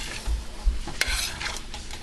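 Cooked chicken and sausage tumble back into a gumbo pot on medium-high heat: a few soft thuds and a clink of utensils over low sizzling and stirring, close and quiet.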